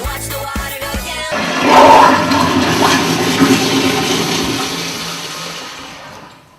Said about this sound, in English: He likes to push the handle and watch the water go down.